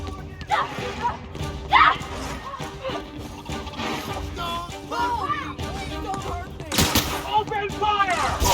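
Gunfire in The Outer Worlds, scattered shots and bursts during a firefight, with several sharp loud blasts over ongoing shouted speech and combat noise.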